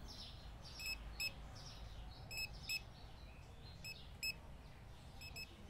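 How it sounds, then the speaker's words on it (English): Checkout scanner beeps in the Supermarket Simulator video game: pairs of short, high electronic bleeps repeat every second or so over a steady low background hum, faint and with no talk. "We will go to sleep to sounds of beeps."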